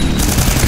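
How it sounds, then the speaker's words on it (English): A bullet ricochet in the game Synthetik snaps past amid a steady wash of close, loud gunfire, one brief zing inside the rapid shooting with no talking over it. "That ricochet was so close to my head"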